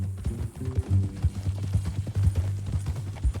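A horse in Red Dead Redemption 2 clip-clops along with steady, close hoofbeats in a brisk rhythm, heard alone for a few seconds.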